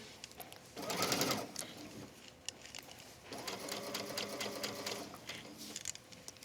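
A sewing machine stitching cork fabric for a pillow runs in two short bursts of rapid stitching, close and fairly quiet, with a pause and faint handling clicks between.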